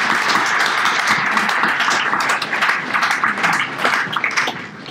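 Applause from a conference audience at the end of a talk, a dense and continuous patter of clapping hands that stays fairly loud and slowly thins, with no voices over it.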